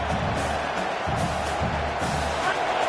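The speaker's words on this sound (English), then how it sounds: "The roar of the crowd trying to fuel this defense to keep them pinned in their own end" A football stadium crowd roars steadily throughout, a dense, continuous wall of cheering noise with no breaks, loud and sustained as the defense tries to keep the opponent pinned deep.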